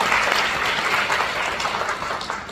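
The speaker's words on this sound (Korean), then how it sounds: "다시 박수 부탁드리겠습니다." Lecture audience applauding at an economics talk, a dense, steady wash of many hands clapping throughout, loud and close with no break.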